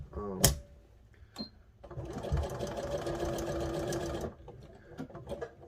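A sewing machine stitches a wrestling singlet in a steady, close, rhythmic run of about two seconds, with a few isolated clicks and clunks before and after the stitching.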